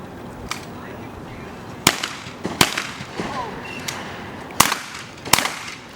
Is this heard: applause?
no